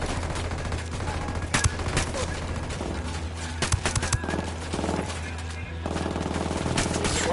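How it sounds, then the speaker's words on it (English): Automatic gunfire from enemy sicarios in Ghost Recon Wildlands crackles in dense, overlapping bursts aimed at an emitter, loud and continuous over a steady game background with a few sharper shots standing out. "Sicarios are shooting the hell out of this emitter."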